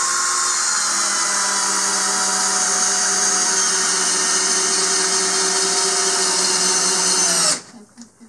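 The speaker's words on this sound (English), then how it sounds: "decking screw into a bunch of 2x4s" A Hyper Tough 12-volt drill drives a decking screw into stacked 2x4s without pre-drilling, giving a loud, steady high-pitched whine for about seven seconds before it cuts off abruptly into near silence.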